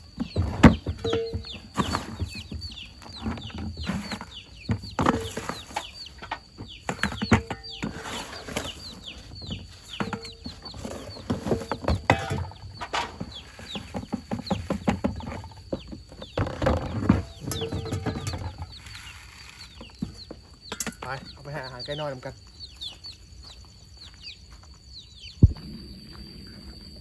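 A flock of nearly 200 backyard chickens clucks and squawks while being fed grass left over by cattle, with many close, irregular clucks, occasional wing flaps and a brief voice in the background.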